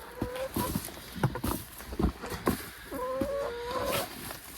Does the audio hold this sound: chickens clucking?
yes